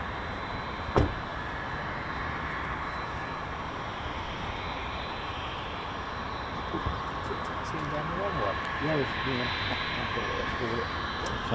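A fighter jet, an F-15 or F-35 at RAF Lakenheath, backtracks along the runway, giving a steady broad engine roar that swells slightly toward the end, with people talking over it.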